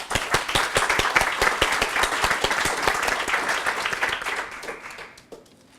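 A crowd at a workplace gathering bursts into loud, brisk applause with sharp distinct claps, holding steady before fading out over the final second.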